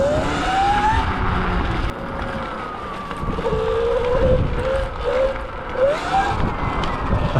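A Sur-Ron electric dirt bike fitted with a Torp TC500 controller accelerates, its motor whine rising and falling in pitch over steady road and wind rumble, close and fairly loud, with no talking.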